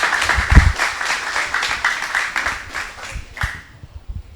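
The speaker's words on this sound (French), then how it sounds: "Sous vos applaudissements, s'il vous plaît." A crowd at a high-school quiz competition applauds as a school team captain is introduced, a lively burst of clapping with a few sharp louder claps that fades out after a few seconds.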